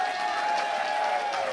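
A wrestling crowd at a Limitless Wrestling show in Maine breaks into applause, a dense, steady wash of clapping and cheering from a large audience, loud and continuous.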